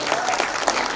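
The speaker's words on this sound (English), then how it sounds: "Please, a big applause." Applause from an indoor audience at a film event stage introduction, a dense steady patter of clapping hands, fairly near and sustained throughout the short stretch.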